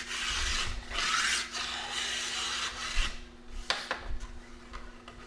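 Hand file rasping along a steel ski edge in repeated long strokes, close and fairly loud, with a few sharper scraping scrapes near the end and no talking.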